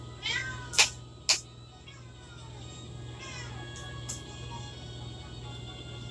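A pet cat meows several times indoors, a few rising, insistent calls spaced across a few seconds, with a couple of sharp clicks early on and a steady low hum underneath.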